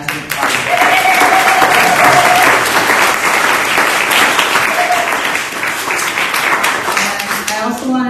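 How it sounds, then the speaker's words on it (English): Enthusiastic applause from a congregation at an Easter church gathering, a loud, steady wash of clapping lasting several seconds with a few faint voices mixed in. "I want an applause for our fantastic party"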